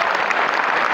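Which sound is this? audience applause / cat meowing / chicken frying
audience applause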